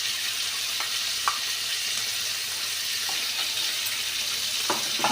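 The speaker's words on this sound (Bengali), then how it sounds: "নুন দিয়ে বন্ধুরা আমি আবারও এটাকে খুব ভালো করে ভাজে নেব" Vegetables frying in a pan for khichdi, a continuous loud sizzle with occasional scrapes of stirring and faint clinks, no talking.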